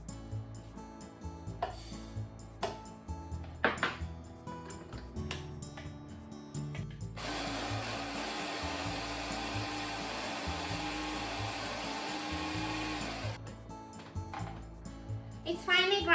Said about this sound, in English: Let's grind the sesame seeds. I'm using food processor